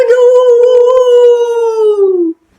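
A person imitates a wolf howl with one sustained, loud, close vocal note that slides slowly downward for about two seconds before cutting off into silence.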